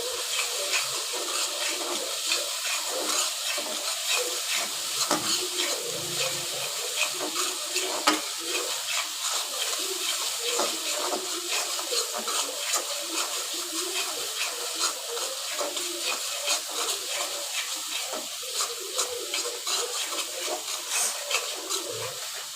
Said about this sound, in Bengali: তো আমার মশলাটা ভাজা হয়ে গেছে